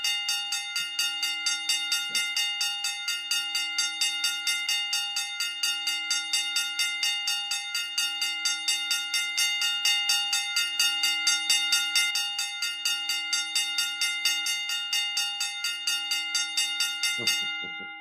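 A bell rings outside, struck over and over in a fast, steady rhythm for about eighteen seconds. Each strike is loud and ringing and overlaps the last, and the ringing stops abruptly near the end without any voices.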